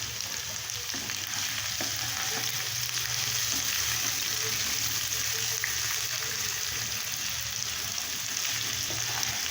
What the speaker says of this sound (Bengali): আলুর সঙ্গে পেঁয়াজটা একটু ভাজবো ভালো করে।